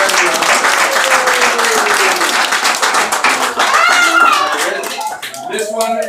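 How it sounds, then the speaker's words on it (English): A round of applause at a Montessori school karate yellow belt ceremony, clapping from a small audience that swells and thins, with children's voices and a higher voice rising through it. "let's give her a round of applause"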